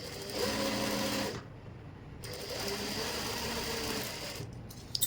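A sewing machine runs in two fast, even bursts with a short pause between them while it stitches along the bottom of a pant pocket, a close mechanical whirr with no talking.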